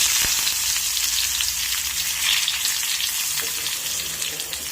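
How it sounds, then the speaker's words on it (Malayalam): Mustard seeds, chilies and curry leaves fry in hot oil for a chayote thoran, a loud, dense, steady crackling sizzle close up, with no talk over it. "കടുക് കൊട്ടിയിട്ടുണ്ട് അതിലേക്ക് മുളക് ചേർത്ത് കൊടുക്കാം കറിവേപ്പില ഇട്ട് കൊടുക്കാം"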